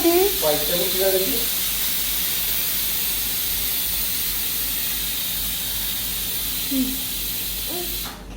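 Sliced onions with salt sauté in hot oil, giving a steady broadband sizzle and hiss that runs throughout, with brief voices talking near the start and again toward the end.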